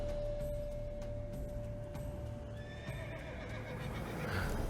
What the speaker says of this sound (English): This one's assumed the form of a horse.